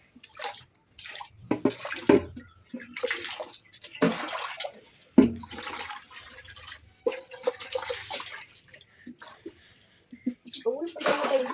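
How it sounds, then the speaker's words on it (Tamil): Water splashing and trickling as the inside of a home fish tank is washed out, in uneven bursts of pouring and dripping, with a voice talking over parts of it. "இப்போ ஃபஸ்ட்டு உள் பக்கமாக கழுவிக்கலாம்"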